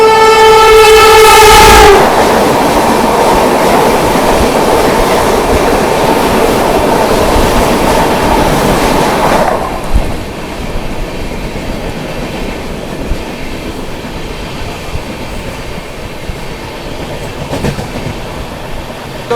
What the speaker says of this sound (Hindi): और सामने से आ रही है दोस्तों आप लोगों की आगरा कैंट बनारस वंदे भारत एक्सप्रेस।